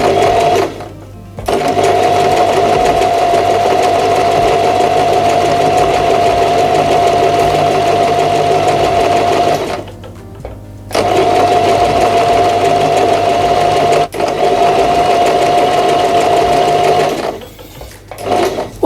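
A Janome 1000A sewing machine stitches fabric with a steady, loud mechanical whir, stopping briefly twice and then running on.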